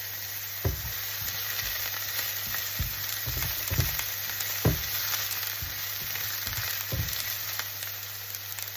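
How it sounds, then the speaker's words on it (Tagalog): Chopped onion and garlic sizzle steadily in a hot pan, with scattered sharper crackles and pops over a constant frying hiss and no talking. "Onion, gisahin nyo lang yan guys mabuti. Tapos garlic, lagyan nyo yung garlic."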